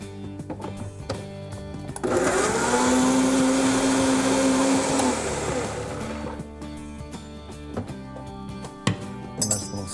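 A blender purees an olive oil, garlic, hot sauce and fresh basil dressing, a loud steady whir running for about four seconds with a pitch that shifts slightly, framed by clinks and handling noise before and after.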